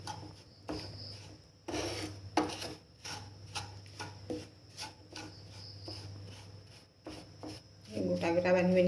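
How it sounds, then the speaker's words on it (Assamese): Rice flour (pitha guri) dry-roasting in a hot kadai, stirred with repeated scraping, rasping strokes in an uneven rhythm, close and fairly quiet, with a steady low hum beneath. "মই পিঠাগুড়িখিনি দিছোঁ ভাজিম।"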